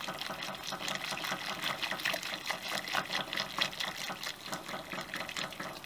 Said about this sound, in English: And I'm going to try and whisk the flour into the middle